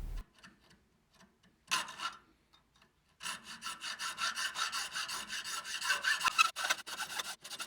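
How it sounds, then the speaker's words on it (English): Hand saw cutting a horn tip in half while making a bow, a few isolated strokes and then a steady run of rhythmic rasping back-and-forth strokes, close and clear, no talk. "I saw the pieces in half to get my overlays."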